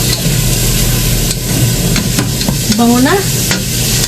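Meat frying in a pan and being stirred, a steady close sizzle with scraping and clattering of the utensil, and a brief spoken word near the end.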